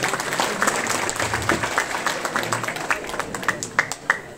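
Wedding guests applaud at a Turkish civil marriage ceremony, the clapping full at first and then thinning into scattered individual claps that fade out.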